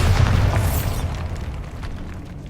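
A Bombarda spell explosion in the Hogwarts Legacy video game goes off with a loud, deep boom that rumbles and decays over a couple of seconds.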